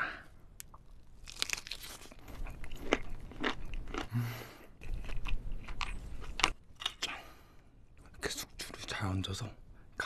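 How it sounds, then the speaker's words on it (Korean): A scallop topped with shrimp is eaten as part of a spicy mala xiang guo seafood dish. Close, crisp crunching and wet chewing come in uneven bursts, with soft whispering mixed in. "얹어서 가리비 먹어볼게요"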